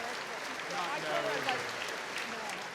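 Crowd applauding at a women's college volleyball match between Arkansas and Texas after an injured player stands, a broad steady clapping wash under a commentator's voice.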